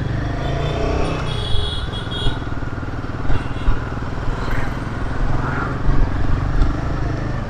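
A Royal Enfield Himalayan 452 motorcycle with a high-revving engine runs loud and close while being ridden, its steady drone mixed with wind rush and occasional faint speech.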